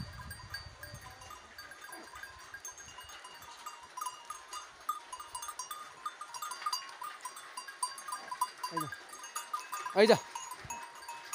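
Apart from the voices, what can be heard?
local goats heading into the forest to graze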